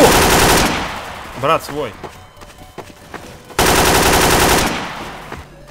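Rapid machine-gun fire in Garry's Mod, two loud sustained bursts close by, separated by a quieter gap with a short spoken exclamation and game sounds.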